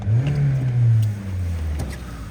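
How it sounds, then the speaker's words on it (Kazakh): A 2018 Kia Optima engine, bonnet open, revs up and settles at close range, its low hum swelling and easing back, with no voices. "Motoru жакшы иштеп турат, бирок."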